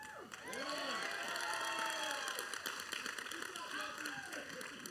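Wedding reception guests applaud during the toasts, steady sustained clapping mixed with crowd chatter and cheering voices, with a room hum underneath.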